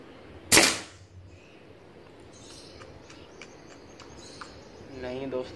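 A gun fired while zeroing its iron sights: one sharp, loud crack early on, then quiet outdoor background with faint insect-like chirps and a little activity near the end.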